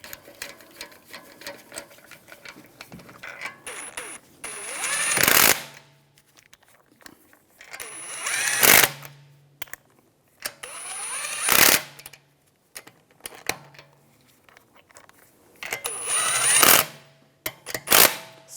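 Lug bolts on a 2009-2013 BMW 328i xDrive wheel are run down by a power tool in four separate loud, buzzing bursts, with quiet handling noises between them.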